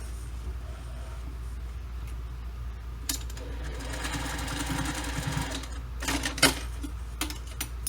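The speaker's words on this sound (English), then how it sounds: "I like to backstitch over the end of this part of the zipper a couple times" A sewing machine backstitches back and forth over the end of a zipper on a business bag, a steady close mechanical whir with a few brief sharper clicks and bursts toward the end.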